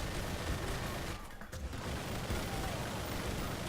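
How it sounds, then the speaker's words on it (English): A minigun fires in the video game R.I.P.D. as a dense, continuous roar of rapid shots, loud and close, with a brief dip in the barrage partway through before it resumes. "having a minigun around can be really handy, because you can get rid of the boss hyper fast if you have a minigun"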